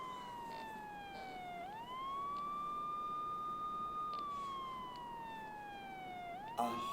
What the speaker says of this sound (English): In the distance, you can hear the sound of sirens approaching.